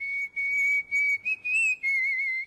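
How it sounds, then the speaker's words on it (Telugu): A person whistles a single sustained, steady-pitched note in several held phrases with short breaks, clear and close, with no talking. "ఏ విజిల్ అంత బాగుందా?"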